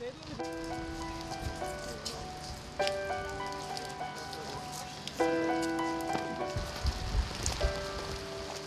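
Heavy rain falls around Gyeongbokgung Palace while a close-protection team escorts visiting dignitaries. The rain is a constant hiss, with sustained musical tones ringing over it and building in brief swells.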